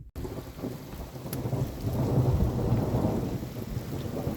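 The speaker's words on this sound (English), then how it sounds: "First thunderstorm since I've been in Ireland" A thunderstorm on a night in Ireland: steady rain pours on surfaces while low thunder rumbles and swells, growing heavier toward the middle, with no talking.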